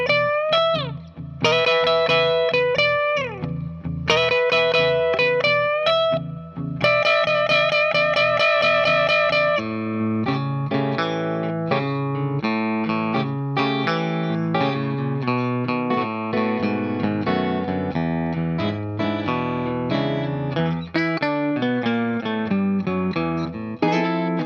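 Electric guitar playing a full solo straight through, sustained bent notes at the start giving way to busy, rhythmic picked phrases, loud and close with a slightly effected tone and no talking.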